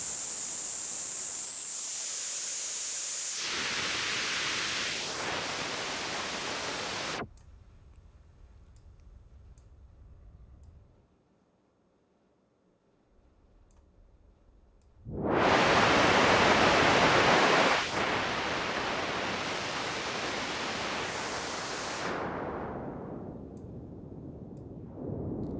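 Broadband synthesizer noise run through a high-pass VCF filter, the cutoff sweeping up so the low end thins away, then dropping to near silence before a loud burst of full noise is filtered upward again.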